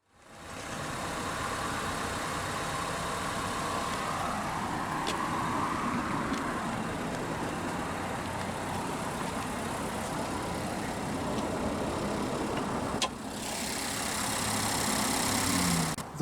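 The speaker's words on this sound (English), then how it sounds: "The Rogue Hybrid is powered by the MR20DD 2-liter naturally aspirated inline-4 combustion engine paired up with an electric motor." A 2017 Nissan Rogue SL Hybrid with a 2-liter MR20DD inline-four idles steadily after start-up, a continuous even hum heard up close with no talk and a brief dip near the end.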